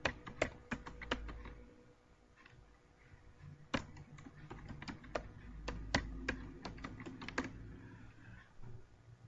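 Fingers type on a computer keyboard in MS Word with quiet, irregular key clicks and a few sharper presses of the Tab and Enter keys, all soft and close with a faint room hum beneath.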